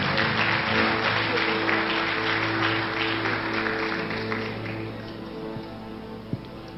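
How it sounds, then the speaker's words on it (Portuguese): A church congregation applauds during a worship service, a continuous wash of clapping under a sustained musical drone, steady and moderately loud before easing slightly toward the end. "aplaudindo a Jesus, porque Ele é bom"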